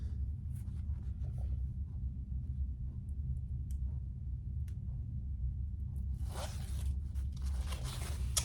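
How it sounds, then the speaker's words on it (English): Paper backing is peeled from double-sided tape on a zipper during tote bag sewing prep: a close, scratchy tearing rasp that builds toward the end over a low steady room rumble. "Take your other piece of paper off your zipper."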